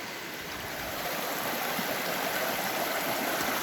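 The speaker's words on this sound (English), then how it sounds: "I'm letting the sluice clean out right now." River water flows through a gold panning sluice on the Little River in New Hampshire, making a steady, loud rushing wash up close with no pauses or voices.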